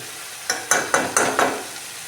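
Masala frying in oil for boiled-potato curry sizzles under five evenly spaced scrapes of a spatula stirring against the pan, close and fairly loud.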